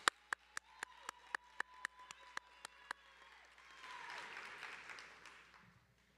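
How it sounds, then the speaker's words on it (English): At a spring commencement ceremony, an audience applauds a graduate. About ten sharp, evenly spaced claps ring out first, then a soft, spread-out patter of applause follows. Everything sounds fairly faint and distant, with no talking over it. "And another round of applause for Christopher Mayfield."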